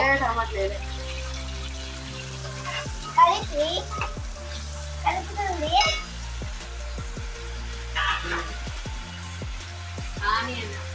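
Onions and tomatoes being stirred as they fry in a pan for a bagara chicken dish, a steady sizzle broken by scraping stirs, over a constant low hum with faint voice-like tones.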